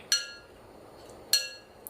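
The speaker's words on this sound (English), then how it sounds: "You can't resist banging on the bowl." A child bangs on a glass bowl: two sharp, ringing clinks about a second apart, each with a bright shimmering decay, close by in a quiet room, with a faint tap at the end.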